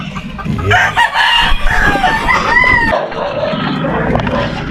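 Chickens cluck and a rooster crows at feeding time, the flock loud and close, with overlapping clucks and a rising crow standing out midway.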